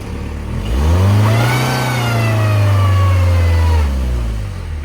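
A car's engine revs hard, rising and holding at high pitch for several seconds before easing off, loud and close, while it strains to tow another car down a slope on wet grass.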